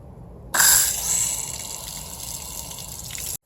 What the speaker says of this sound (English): So let me turn the water on.